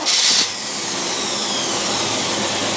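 A Predator small engine with a carburetor runs steadily at high speed, a loud, even roar with a sharp, hissing burst at the start before settling into a continuous drone, with no talking.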